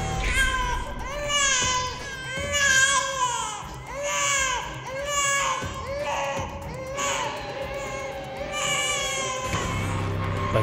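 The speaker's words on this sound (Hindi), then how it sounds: "वो बच्चा भूख से रो रहा था।" A newborn baby cries from hunger in a dark horror tale, loud and continuous wailing with repeated rising and falling cries over about ten seconds, unbroken by speech.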